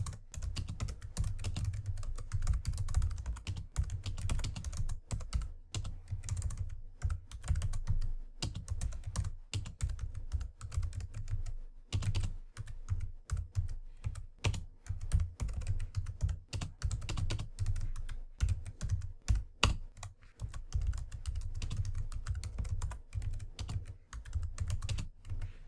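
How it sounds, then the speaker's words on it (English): Rapid, steady typing on a computer keyboard, dense clattering keystrokes running nearly continuously for the whole stretch, close up with no voices. "Now for this, I'm just going to type this out real fast."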